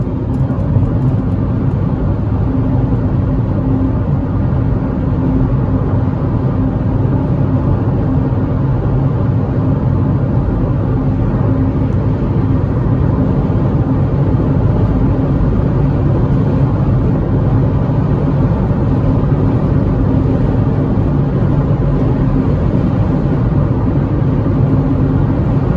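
A Hyundai HB20 1.6 automatic holds high speed under throttle, a steady loud engine drone and road roar filling the cabin without a break.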